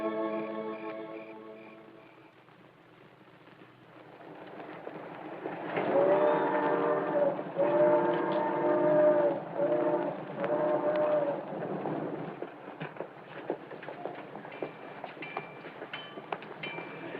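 A train rumbles into a railroad station with rising mechanical noise, a long steady whistle-like tone in the middle, then clattering and clanking as it slows, with no voices.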